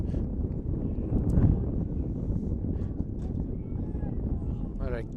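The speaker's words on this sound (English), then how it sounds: "What a big gust of wind" A strong gust of wind buffets an outdoor microphone at a varsity boys lacrosse game between Christian Brothers Academy and Rumson-Fair Haven, a steady low roar that swells around the second mark.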